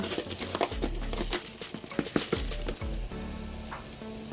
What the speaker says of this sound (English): Then you're gonna add 1 cup of rice into here.